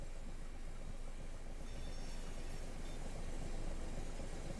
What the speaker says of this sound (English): I can hear another train.